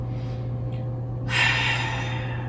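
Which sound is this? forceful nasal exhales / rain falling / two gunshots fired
forceful nasal exhales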